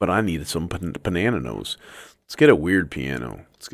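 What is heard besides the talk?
No everyday noises stand out.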